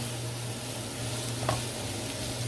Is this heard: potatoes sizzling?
yes